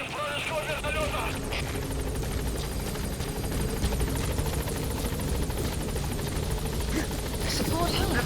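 Support helicopter in Metal Gear Solid V: The Phantom Pain, a steady rotor thrum that stays loud and close throughout, with battle noise and radio voices speaking over it.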